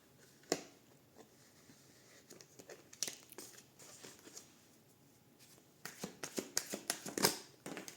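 Tarot cards being shuffled and drawn, soft riffling, slaps and papery flicks, quiet and close, growing busier toward the end.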